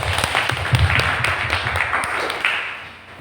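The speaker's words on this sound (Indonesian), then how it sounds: "Nah, tepuk tangan dulu untuk semua." Audience applause after a speaker at a community literacy gathering calls for a round of clapping, a steady dense patter of hands lasting a few seconds at moderate loudness before tapering off, with no talk over it.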